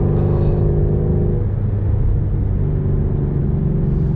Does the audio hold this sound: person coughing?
no